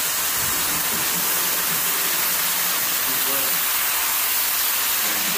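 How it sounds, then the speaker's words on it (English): Water pours steadily into a pot of rice for Spanish rice made with chicken broth, a loud, continuous hissing rush that runs without break from start to finish. "So now I'm going to go ahead and add the water."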